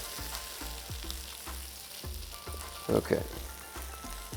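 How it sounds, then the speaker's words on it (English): Onions and potatoes fry in a hot pan with a soft, crackling sizzle that ticks along in quick pops, fairly quiet and close, with a brief spoken word over it. "I'm kind of hearing the onions beginning to fry a little bit, the potatoes beginning to fry a little bit"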